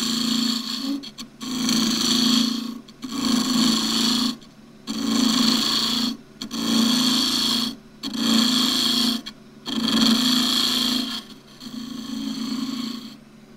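A wood lathe turns a finial, giving a soft rasping whir that swells and drops in a regular rhythm of bursts about every second and a half, close and fairly quiet, with no talk.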